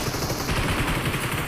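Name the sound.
gunfire in BGMI video game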